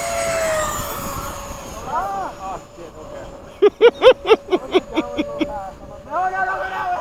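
E-flite Havoc and FMS 80mm Hawk electric RC jets fly in formation at sunset, a steady high ducted-fan whine passing overhead while people talk and exclaim nearby.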